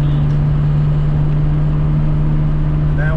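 A Nissan Z cruises at highway speed around 75 mph on a tire performance test, with a loud, steady engine drone and road and wind rumble filling the cabin throughout.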